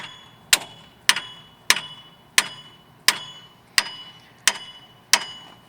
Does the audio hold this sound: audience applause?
no